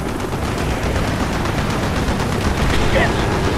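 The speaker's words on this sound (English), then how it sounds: "Taking AAA fire from the deck!" Dense anti-aircraft gunfire rattles without pause in the Call of Duty Black Ops shooter game, a loud continuous barrage of rapid shots mixed with explosions and faint radio voices.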